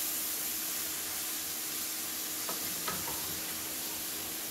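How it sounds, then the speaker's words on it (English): Chicken breast stir fry sizzling in a pan, a steady soft hiss with two quick scrapes of stirring near the end, close and even, no voices. "we're going to give our recipe a good stir here"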